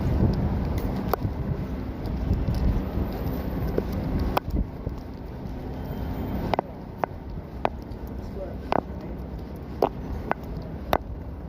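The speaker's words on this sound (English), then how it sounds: "It's windy and cold." Steady wind noise rumbles against the microphone throughout, with a few sharp knocks and clicks scattered over the blustery background.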